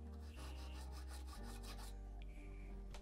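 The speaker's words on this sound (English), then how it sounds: "I just took my number 4 file and just went over that lightly" Steady light rasping strokes of a number 4 metal file smoothing a sterling silver bezel seam, close and repetitive, over a constant low hum.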